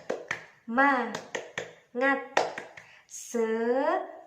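A class doing the 'tepuk semangat' clapping routine, sharp claps and snaps in a quick rhythm alternating with chanted voices, close and moderately loud.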